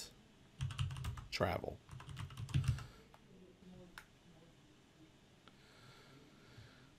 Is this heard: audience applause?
no